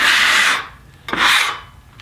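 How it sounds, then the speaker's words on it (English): A hand brushes sawdust off the freshly sawn face of an apple log on a sawmill. There are two loud, close sweeping rubs, each about half a second long, with a short pause between them and a faint third scrape at the end. "So we'll get this sawdust off here and see what we got to work with."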